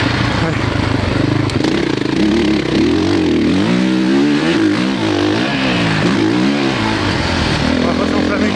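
A 450 dirt bike is ridden on sand, its engine revving up and down in rising and falling surges under a rider's talk.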